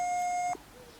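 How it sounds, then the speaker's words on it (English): A JRC Radar CX carp fishing bite alarm receiver gives a single steady electronic bleep, clear and close, lasting about half a second before cutting off to near silence. "When you get a single bleep, either forwards or backwards, it sounds like this."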